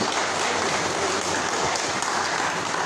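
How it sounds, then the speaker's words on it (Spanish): Dense, steady applause from an audience thanking a speaker on gas and petroleum at an ideological training school for cadres and leaders, loud and continuous with no pause. "agradecerle con un fuerte forma de aplauso"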